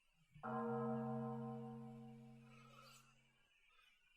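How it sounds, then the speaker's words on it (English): A single temple bell rings on New Year's Eve in a visual novel game, one clear resonant strike with a long humming decay that fades after a few seconds. "So I could hear the temple bells ringing."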